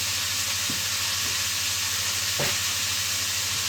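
Meat browning in a pan for Zurich tranché, a steady close sizzle and frying hiss with a couple of brief spatula scrapes.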